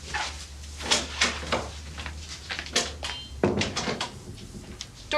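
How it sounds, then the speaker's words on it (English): Indoor domestic clatter of a door opening amid handling of household items, with several sharp knocks and rattles spread over a few seconds against a steady low hum, no voices. "Doors open."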